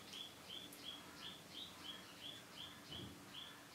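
Repeated sharp, high calls from a nuthatch near a bird feeder, about ten evenly spaced notes ringing out over a few seconds against quiet outdoor background, moderately distant.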